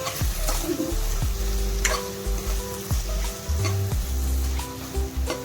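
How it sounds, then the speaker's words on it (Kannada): Capsicum frying in a pan with chilli powder and coriander powder being stirred in, a steady sizzle broken by repeated scraping and clattering strokes of the spoon, close and loud. "ಖಾರದ ಪುಡಿ, ಹಾಕಿ ಮಿಕ್ಸ್ ಮಾಡಿ"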